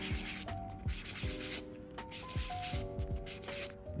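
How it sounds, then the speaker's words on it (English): Sandpaper rubs back and forth over plastic potion bottle lids being roughened for paint, giving steady, quick scratching strokes under background music. "we are going to sand down the different lids"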